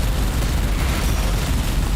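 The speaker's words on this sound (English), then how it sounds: "I kind of prefer these explosions" Dense, continuous rumble of explosions from the space combat game Everspace 2, loud and sustained with no gaps and no voices over it.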